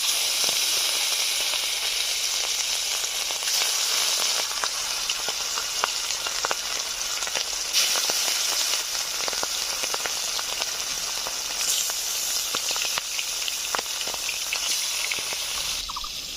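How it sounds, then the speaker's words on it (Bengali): Fish rubbed with turmeric and salt fries in hot mustard oil, a dense, continuous crackling sizzle with scattered sharp pops, loud and close throughout, no talking. "মাছগুলো হলুদ লবণ মেখে নিয়েছি আর এদিকে সরিষার তেলও গরম হয়ে গেছে, ভেজে নিচ্ছি।"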